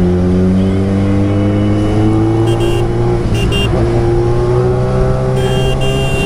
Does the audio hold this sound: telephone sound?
no